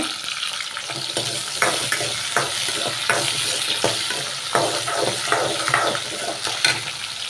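Small onions and garlic sautéing in oil, a steady close sizzle broken by repeated scraping stirs and clinks from a spoon in the pan, with no talking.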